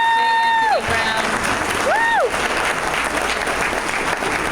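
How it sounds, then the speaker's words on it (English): Crowd applause and cheering for the Tom Joyner Morning Show, a sustained roar of clapping while a voice briefly sings or calls out tonal phrases over it near the start. "So please, a round of applause for the Tom Joyner Morning Show."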